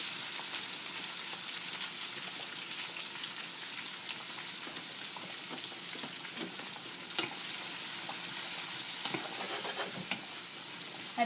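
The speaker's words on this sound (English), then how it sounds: "We're putting it in the same oil that we cooked the smoked chops in, so that they'll pick up the same taste." Black beans fry in oil left from cooking smoked pork chops in a frying pan over low heat, a steady close sizzle and crackle with faint stirring scrapes throughout.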